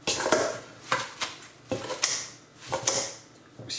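Scissors snipping parsley and mint leaves, a series of crisp, close cuts coming about every second, with faint metallic clicks between the snips.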